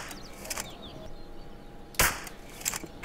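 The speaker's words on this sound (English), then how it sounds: "It's an air rifle." An air rifle fired in the video game Hitman Blood Money, a sharp, loud crack standing out from a quiet background, followed later by a fainter second report.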